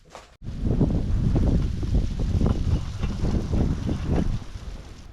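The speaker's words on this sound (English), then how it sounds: "It is super windy this morning" Strong wind buffeting the microphone in low, rumbling gusts that roar continuously after a brief quiet start.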